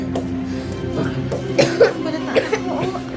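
A person coughs in several short, harsh bursts close to the listener, with some voice and throat noise between them.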